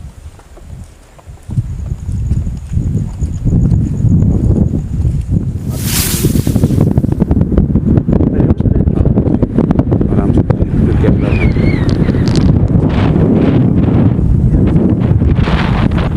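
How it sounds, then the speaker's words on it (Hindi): Strong wind buffets the microphone at night at Rohtas Fort, a loud, constant rumbling roar with gusting bursts, with a person briefly speaking under it. "इतनी तेज हवा चली।"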